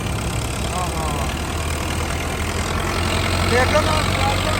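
An Agri Master tractor engine idles with a steady, low rumbling drone that holds at an even level throughout, under faint background voices.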